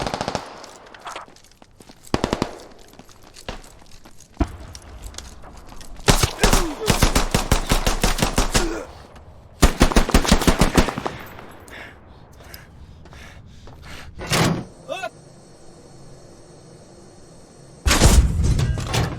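Gunfire in the military shooter game Squad: loud bursts of automatic fire and single shots come in clusters with gaps between them, some close and sharp, with occasional thuds.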